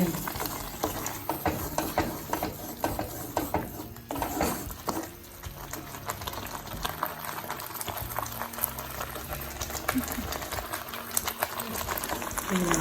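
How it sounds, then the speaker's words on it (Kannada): Dry prawn chutney frying in a pan, Tulu kudla style, with a steady busy sizzle and bubbling, occasional stirring scrapes, fairly close and continuous throughout. "ಫ್ರೈ ಮಾಡ್ತಾ ಇರಬೇಕು"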